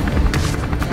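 A cartoon helicopter's rotor chops loudly in a short, close burst of rapid beats.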